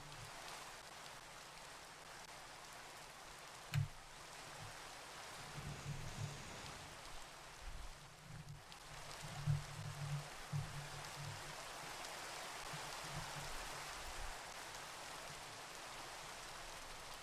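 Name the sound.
rain falling in Minecraft video game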